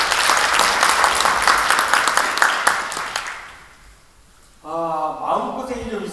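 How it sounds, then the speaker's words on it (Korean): Audience applause at a lecture for local council members: a dense burst of clapping for about three seconds fades out, followed by someone talking. "박수 한번 같이 쳐드립니다."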